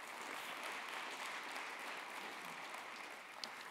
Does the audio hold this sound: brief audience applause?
yes